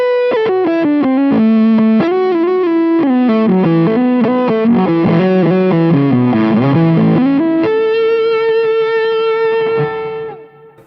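A distorted electric guitar plays a quick melodic line drenched in reverb and echoing delay, ending on a sustained note that fades out.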